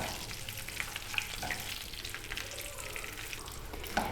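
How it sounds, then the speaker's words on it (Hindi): Oil tempering with ten dried round red chillies and a tablespoon of cumin frying over low heat, giving a steady close crackling sizzle with small pops throughout, no talking. "हल्की आंच पर हम तड़के को भून लेंगे।"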